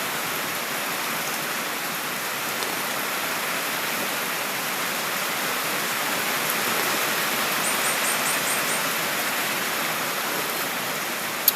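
Heavy afternoon rain with wind, a dense steady roar of downpour holding even and close for the whole stretch, with no voices over it.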